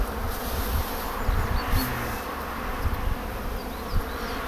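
Steady buzzing of many Buckfast honeybees swarming close by, a dense continuous hum with a few louder individual passes.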